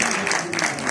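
An audience at a memorial gathering breaks into dense, steady clapping that carries evenly through the whole brief moment, loud and close, with no gaps or voices standing out.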